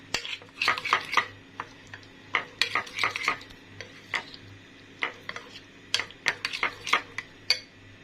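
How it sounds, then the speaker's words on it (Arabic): A spoon stirs yogurt into a crushed Lotus biscuit mixture in a bowl, close, with irregular clinks and scrapes against the bowl, alone with no talking. "ضفت الزبادي، هقلب بقى كله مع بعض كده"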